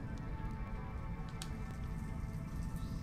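Steady rain in the video game Shadow of War falls as a constant soft hiss and patter, with a few brief sharper ticks of drops, fairly quiet and with no voices.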